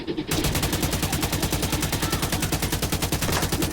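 Sustained automatic gunfire from The Division, a rapid steady stream of loud, evenly spaced shots lasting several seconds with no pauses.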